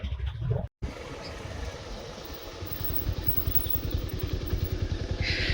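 A motorcycle engine runs steadily close by, its pulsing drone continuous apart from a short dropout near the start.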